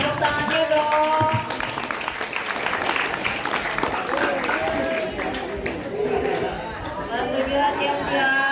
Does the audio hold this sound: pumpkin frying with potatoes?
no